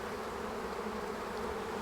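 A massed swarm of honey bees buzzing close by, a dense continuous drone holding steady throughout with no voices.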